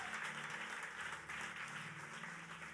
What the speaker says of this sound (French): Est-ce que tu peux applaudir l'Esprit de Dieu?